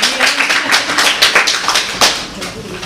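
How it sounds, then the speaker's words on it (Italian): At a seminar, an audience claps in a brief, dense burst of applause lasting a few seconds, fairly close and steady before thinning out. "Bello, applauso."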